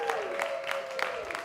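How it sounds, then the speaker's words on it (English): An audience at the 2016 ACA Honors awards event claps, with a steady patter of applause and a sustained tone running underneath. "Give yourselves a round of applause"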